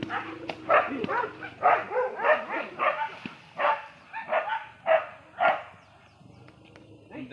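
A dog barks repeatedly in quick bursts, fairly close, with short yips between barks and a brief quiet stretch near the end.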